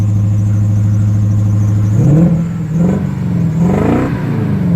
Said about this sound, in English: Let's hear the exhaust and let's hear the engine.